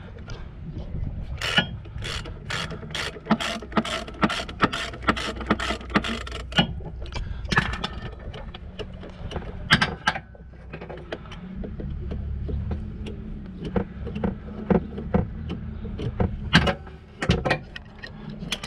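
A ratchet wrench turns clutch bolts on a Peugeot Citroën Berlingo 1.6 HDi, giving a loud, close run of rapid metallic clicks that slows into sparser ticks and knocks of work on the car.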